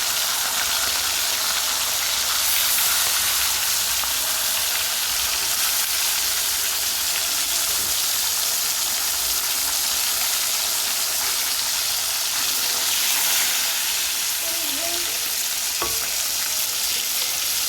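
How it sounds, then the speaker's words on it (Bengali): Parshe fish fry in hot oil with a loud, steady, close sizzle and crackle that runs unbroken throughout, with no voices. "সর্ষে পোস্ত দিয়ে পার্শে মাছ করার জন্য প্রথমে পার্শে মাছটাকে গরম তেলে ভালো মতো ভেজে নিতে হবে।"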